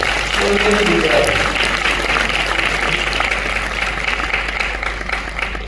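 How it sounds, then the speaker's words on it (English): Steady applause from a crowd at a convocation ceremony fills the space, continuous and fairly loud, with a low hum underneath. "I would like you to give an applause to all the artists who performed."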